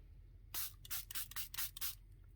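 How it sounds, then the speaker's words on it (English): Water is sprayed from a spray bottle onto an inked card, about six short hissing spritzes in quick succession, close and fairly quiet, with no voices. "see what happens when I spray some water on there."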